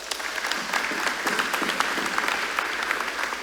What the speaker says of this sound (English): Could we give him an applause?